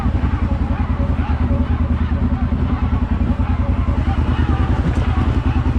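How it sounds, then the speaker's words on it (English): A Kawasaki Brute Force 750 ATV engine brakes with the throttle fully off, a steady, loud, low pulsing engine rumble with rapid regular firing beats throughout, a rider's voice partly mixed in. "Its engine brakes doing its job."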